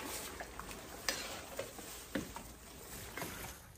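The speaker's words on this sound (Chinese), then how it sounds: "我们把这个熟芝麻倒进锅里面去，然后搅拌搅拌" Toasted sesame seeds being stirred into a wok of homemade chili sauce that has simmered for about three hours: soft scraping strokes at an irregular rhythm over a steady faint bubbling, close and fairly quiet, with no voices.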